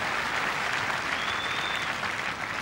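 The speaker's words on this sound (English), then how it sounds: "Plenty of encouragement from the Queen's Club crowd" A tennis crowd at Queen's Club in London applauds steadily through a 2005 third-round match, a dense, even wash of clapping with no break.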